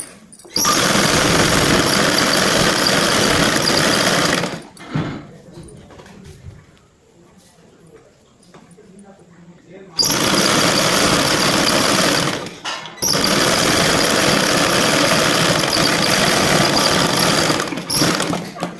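Sewing machine stitching a Punjabi dress pant, a loud close mechanical whir in two long runs separated by a quiet pause of a few seconds with faint handling.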